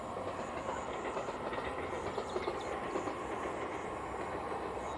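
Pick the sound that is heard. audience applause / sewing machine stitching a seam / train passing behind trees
train passing behind trees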